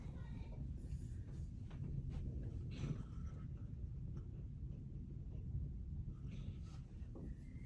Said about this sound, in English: Yeah, wind, rain, and thunder, and lightning.